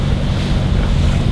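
A cruising boat motoring at about 2.5 knots near Cape Fear at sunrise, with a steady low rumble and broad wind and water wash holding level throughout the short stretch, no voices.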